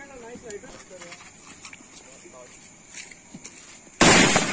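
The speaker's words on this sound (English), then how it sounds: "we are going to be lighting some fireworks right now" A big firework bomb bursts with a sudden loud, close blast at the end, after a few seconds of quiet outdoor chatter and faint pops.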